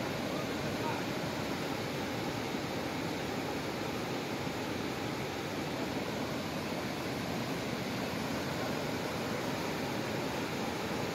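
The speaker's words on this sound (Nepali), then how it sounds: "र अहिले यो ब्रिजमाथिबाट खोला बहिरहेको छ" A swollen river pours over the flooded Baluwas bridge after a night of heavy rain, a constant loud roar of rushing water with no break.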